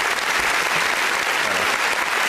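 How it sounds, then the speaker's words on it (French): Steady audience applause, dense and continuous clapping from many hands filling the room without a break. "Allez, un petit peu d'applaudissements."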